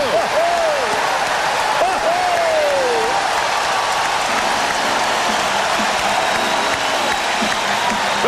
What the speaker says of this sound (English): And this crowd really getting into it now.